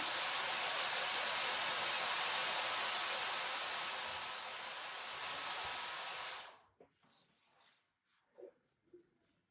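A Dyson Airwrap Long Volumise hair styler on its cold setting blows a steady, loud airflow hiss for about six seconds, then cuts off abruptly, leaving faint handling noises and a few soft knocks.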